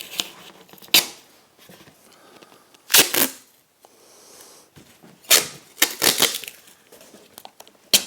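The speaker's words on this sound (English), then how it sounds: "I need tape on here." Tape pulled and torn from a roll while building simple, strong storage boxes: several short, crackling rips in quick bursts with quiet pauses between them, close by.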